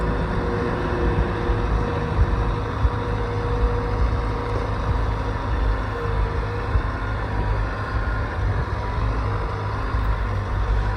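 A Bobcat L85 compact wheel loader drives across dirt, its diesel engine droning steadily and loud throughout with a constant low rumble and no pauses.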